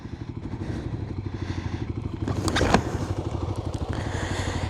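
A Kawasaki KLX300 dirt bike ridden on San Diego backroads and trails, its single-cylinder engine thumping in a steady close pulse, with a brief clattering scrape partway through and a rise in revs.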